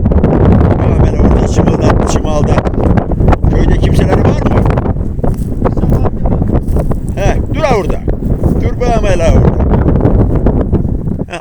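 Strong gusty wind buffets the microphone outdoors near a tree, a loud, constant roar with rustling, while people talk over it throughout.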